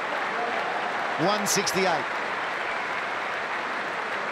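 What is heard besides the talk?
cricket crowd applauding and cheering a batsman's century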